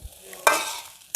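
Tiwul fried rice, made from dried cassava, being stir-fried in a pan: one sharp scraping stir over a soft sizzle, then another quick scrape at the end, close and moderately loud.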